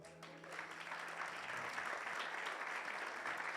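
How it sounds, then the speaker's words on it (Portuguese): A church congregation claps for the Lord, starting softly and swelling into a steady, fairly distant patter of many hands that continues to the end. "Você pode aplaudir ao Senhor."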